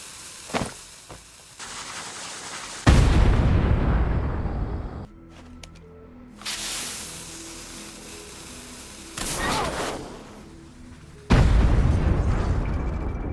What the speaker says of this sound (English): for Dynamite, they use the incorrect equip and fuse sound effects, incorrect explosion VFX